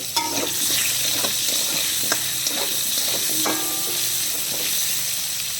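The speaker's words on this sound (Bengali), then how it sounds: "আলুগুলোকে ভেজে নিলাম।" Potatoes frying in a blackened iron kadai: a loud, steady sizzle that lasts throughout, with occasional scraping clinks of stirring.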